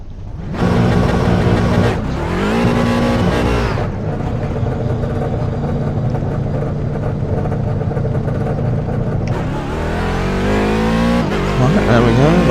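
A race car laps Monza in the iRacing IMSA series, its engine droning steadily close-up, with shift breaks and rising revs around the gear changes and a climbing pull near the end.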